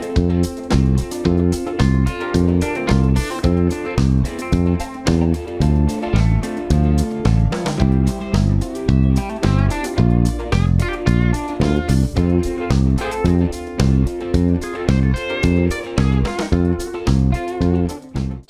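An electric bass plays a driving groove over a full backing track with drums, steady pulsing notes under a loud and busy mix that runs throughout without a break.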